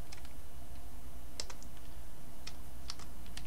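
Code is typed on a computer keyboard in sparse, crisp clicks, a few isolated keystrokes and short bursts over a steady background hum.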